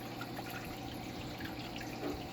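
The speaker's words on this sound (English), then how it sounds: "I guess just splashing around doesn't cut it" Water splashing in an angelfish aquarium tank, a steady close churn and trickle with no voices.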